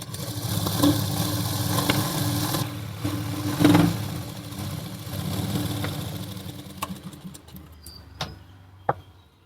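An electric sewing machine hums as it runs double stitching along a tucked blouse, a continuous motor whir with slight surges, then slows and stops near the end with a few clicks. The machine is close and no one speaks.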